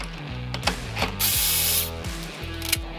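A ratchet wrench clicks rapidly while loosening a 10mm nut on an 8mm-head M6 bolt at the rear of a motorcycle gas tank, heard as close, loud, repeated pawl bursts with a brief hiss in the middle.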